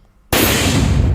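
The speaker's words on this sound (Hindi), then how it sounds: "बमों को डिफ्यूज किया गया और ये धमाके की आवाज आप सुन पा रहे होंगे।" Controlled detonation of defused pressure IED bombs, about 2 to 3 kg each, recovered in a forest: a sudden loud blast breaks a quiet moment and leaves a sustained roaring, crackling rumble.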